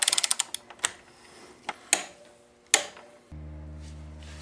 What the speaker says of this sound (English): Once you have your trusted torque wrench, set it up to 22 foot-pounds.